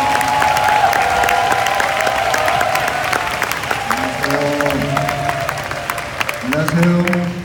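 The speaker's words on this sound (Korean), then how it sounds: "큰 박수와 환호로 맞이하도록 하겠습니다." An audience at a youth lecture event claps steadily to welcome a guest speaker, a dense, even patter of hands throughout, with a voice talking over the applause in the second half.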